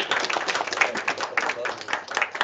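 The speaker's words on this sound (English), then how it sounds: "One more round of applause." An audience applauds after a faculty roundtable on early Black women writers, steady close clapping from a small crowd throughout, with some talk underneath.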